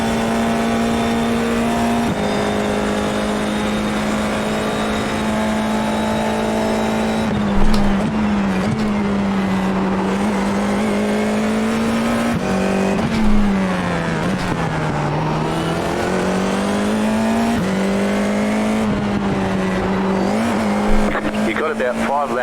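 Formula 4 iR-04 race car in iRacing at Long Beach, a steady high engine drone holding pitch with brief dips and rises through gear changes and corners, loud and continuous throughout.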